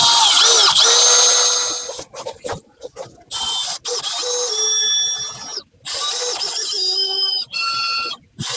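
A power drill bores a small pilot hole into a broken exhaust manifold bolt on a 2016 Ram 1500, loud and close, whining in bursts that stop and restart several times with short pauses between.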